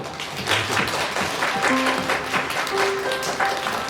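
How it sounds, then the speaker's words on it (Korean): Audience at an elementary school graduation ceremony applauding the graduating children, a dense, steady round of clapping at moderate distance with a few faint voices. "이 아이들을 위해서 경려 박수 좀 부탁드리겠습니다"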